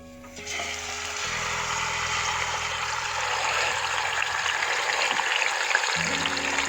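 A whole chicken frying in hot oil inside a pressure cooker, a loud steady sizzle that swells as the chicken goes in and then holds, close and continuous.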